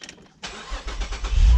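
Low-mileage Saab 9-3 TurboX cranks briefly, then catches and fires up, its engine and exhaust swelling into a loud, deep rumble close by.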